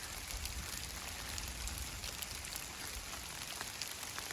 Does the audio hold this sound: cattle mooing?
no